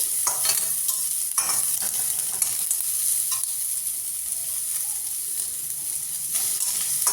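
Onions sizzle in a pan for veg momos, a bright continuous hiss broken by repeated scraping stirs, close and steady with no talking.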